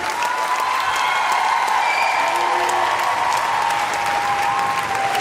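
Audience at a children's performance event applauding the young performers, dense sustained clapping with faint cheering and a whistle-like tone ringing through.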